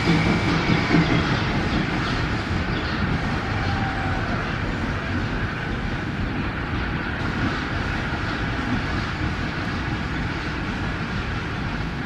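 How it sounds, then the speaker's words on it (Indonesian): The KLB Jaladara special train is shunted from track 4 at a station, giving a loud, continuous low rumble and rolling rail noise with faint clatter that holds steady throughout, with no talking. "KLB Jaladara dilangsir dari jalur 4."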